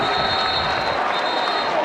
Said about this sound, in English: Nice buzz here in the crowd. You can see the south end zone and the student section getting fired up here for the Wolfpack.